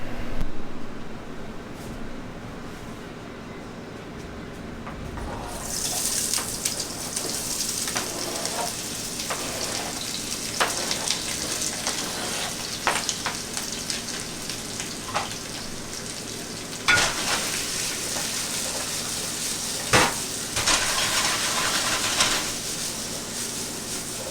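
Chopped vegetables drop into a hot pan and start frying, a quiet room giving way to a sustained close sizzle with occasional clatters and bursts of louder hiss as they are moved around.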